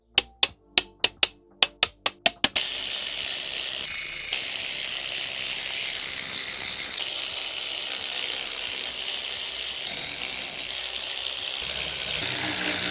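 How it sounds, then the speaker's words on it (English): A ratcheting torque wrench clicks in a quick series of sharp, close pawl ticks while tightening bolts on a Volvo XC70, then stops, leaving a steady background hiss. "Let me go grab my torque wrench."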